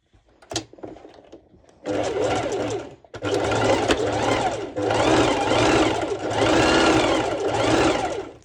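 A sewing machine stitches ruched-side pole dance shorts in close, loud bursts, with a few faint taps before three sustained runs of whirring, briefly paused between them.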